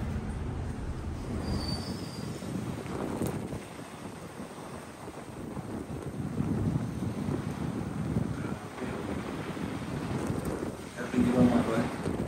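Strong typhoon wind buffets the microphone in a continuous roar with gusty surges, while people talk faintly beneath it.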